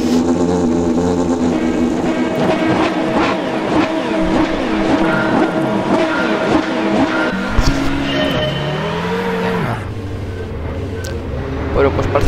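A Volvo S60 BTCC race car in Assetto Corsa, running a one-make race at Cadwell Park, holds a loud, harmonic engine note that rises and falls through gear changes, with other engines and tire noise layered in.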